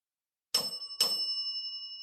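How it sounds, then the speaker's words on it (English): A small bell rings twice in quick succession, two bright clear dings about half a second apart, the second left to ring on and fade slowly in an otherwise quiet room. "Can you ring the bell if you're still with us?"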